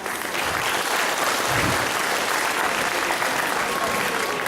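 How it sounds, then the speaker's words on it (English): A school spring sing concert audience claps steadily through a sustained round of applause, dense and even from start to finish with no talk over it. "Another round of applause"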